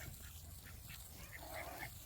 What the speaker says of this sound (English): The ducks are over here having a blast.